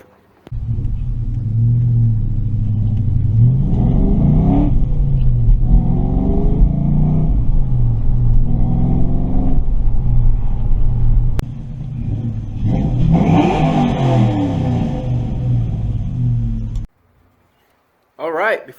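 A 1996-2004 Ford Mustang GT with the 4.6-liter SOHC 2-valve V8 drives and revs, its loud engine rumble rising and falling through several throttle pulls before cutting off near the end.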